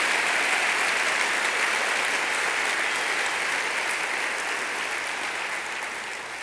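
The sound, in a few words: audience applause for education leaders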